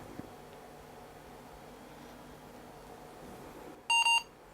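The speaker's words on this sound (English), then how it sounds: "So we have 2 beeps" An Advent 7094 laptop gives two short, bright electronic beeps in quick succession as it powers on, following a stretch of quiet fan hiss and faint background hum.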